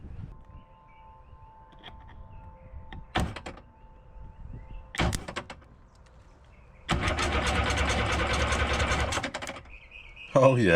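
A 1991 Sea-Doo engine turns over with a steady mechanical cranking whir for a few seconds, preceded by faint clicks and a couple of sharp knocks, with a low electrical hum underneath.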